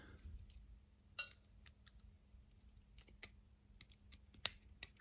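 Scissors or side cutters snip the lead of a tactile push-button switch mounted on a PCB, giving a few sharp, close clicks and snaps scattered over a quiet background.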